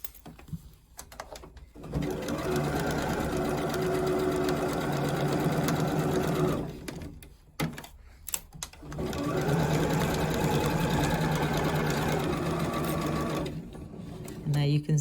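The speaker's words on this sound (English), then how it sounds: "just slowly maneuver that fabric underneath the machine" Sewing machine stitching through fabric for a jumpsuit, in two sustained runs of rapid, steady whirring with a short pause between them and quieter handling noise around the runs.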